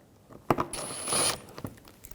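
Small bolts being threaded by hand into a 2011-2018 Volkswagen Jetta radiator and condenser fan assembly, giving a short burst of close metallic clicks, ratcheting and scraping.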